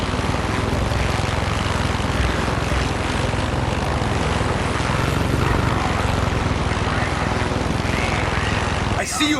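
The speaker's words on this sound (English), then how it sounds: "There's an enemy chopper creeping the skies nearby." An enemy helicopter in the war shooter Far Cry 6 drones steadily overhead, its loud, continuous rotor and engine roar filling the whole stretch and ending in a sharp cut.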